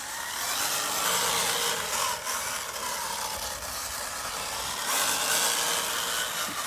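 Hobbywing AXE brushless motor system in a Gen 8 Axe Edition RC crawler running at full throttle, a steady high whine that holds loud and continuous with slight swells in pitch as it picks up speed.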